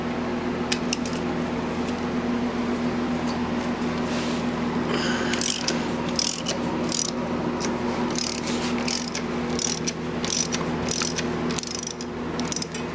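A ratchet loosening 12mm bolts on a Suzuki Burgman 650 scooter during engine parts removal, giving bursts of rapid clicking pawl sounds over a steady low hum, close and fairly quiet.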